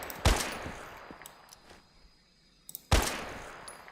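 Two sharp, loud gunshots in a first-person shooter game, a second apart by nearly three seconds, each followed by a short decaying tail, with a few faint clicks and thuds between.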